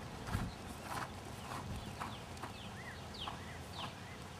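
A horse canters around an indoor arena, soft, fairly faint hoofbeats thudding in a steady three-beat rhythm over light background noise.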